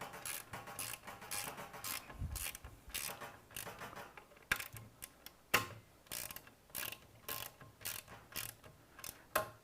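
Bolt being tightened by hand on a robot's fuel mechanism: a run of short ratcheting clicks and metallic creaks in an irregular rhythm, close and moderately quiet, with no talk.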